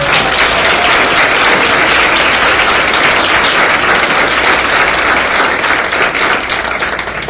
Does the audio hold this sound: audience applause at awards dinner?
yes